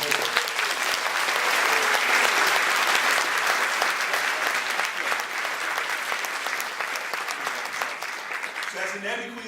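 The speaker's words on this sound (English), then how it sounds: "So give them a round of applause for them." A mental health educational conference audience gives a long round of applause, loud and dense at first, then thinning toward the end as a voice returns.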